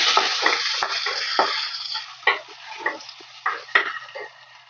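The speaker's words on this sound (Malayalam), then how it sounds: "ചതച്ച് വെച്ച ഉള്ളി വെളുത്തുള്ളിയും പാടെ ഇട്ട് കൊടുത്തിട്ട് അത് ഞങ്ങൾ വഴറ്റിയെടുക്കും" Crushed shallots and garlic sauté with curry leaves in hot oil, a bright sizzle broken by several scraping stirs of a spoon against the pan, close and loud.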